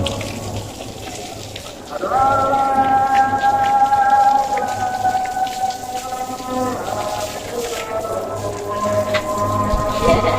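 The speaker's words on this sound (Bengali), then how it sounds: "বৃষ্টির পরিমাণ আগের থেকে বাড়ছে অনেক।" Heavy rain pouring on a rooftop in Bangladesh, a loud continuous wash of drops that swells after a couple of seconds, with tonal sounds and faint voices mixed into the steady downpour.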